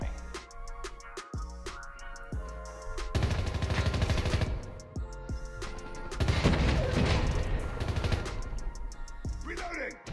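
Gunfire in the mobile shooter Call of Duty Mobile fires through smoke in a ranked match, with sustained loud bursts of automatic shots and booming thuds, close and dense.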